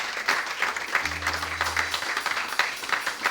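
A church congregation at an evening worship service applauds to thank sister Vanessa Camps, steady sustained clapping from a full room filling the whole moment, with no one speaking over it.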